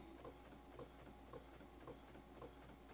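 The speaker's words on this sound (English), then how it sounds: "Hopefully you can't hear the printer going crazy next to me." A printer runs nearby, a faint, steady mechanical hum broken by rhythmic clicking pulses about every half second.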